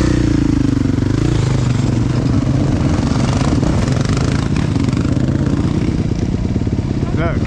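A dirt bike ridden in second gear over a jump, with a loud close engine that drones and rises on the throttle, under talking and wind.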